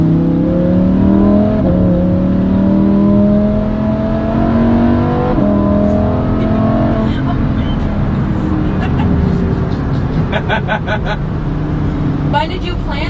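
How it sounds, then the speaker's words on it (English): A 2021 Lamborghini Huracan Evo sits running at idle with a steady low engine drone, nearby, while people talk over it. "This is a 2021 Lamborghini Huracan Evo."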